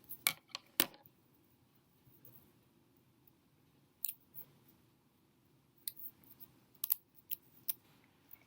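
Scissors cut a fringe into paper for a 3D paper sculpture, making quiet crisp snips in irregular clusters separated by near-silence.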